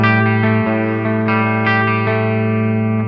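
A 7-string electric guitar with its bridge humbucker switched to parallel rings out in distorted, effect-laden chords, with several strummed attacks over a loud, sustained wall of tone.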